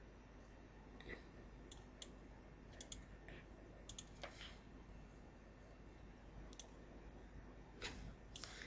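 Scattered, light computer keyboard key clicks, a few at a time with pauses between, quiet against a steady background hiss, while entering the word inventory in Flash Professional CS3.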